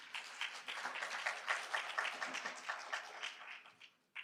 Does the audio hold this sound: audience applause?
yes